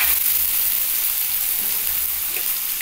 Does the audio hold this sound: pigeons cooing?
no